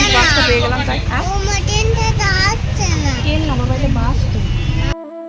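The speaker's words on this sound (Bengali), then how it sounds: "আমরা বাসে উঠে পড়লাম" Riding inside a moving bus, with a constant low engine rumble and road drone under loud chatter from children and adults, ending abruptly.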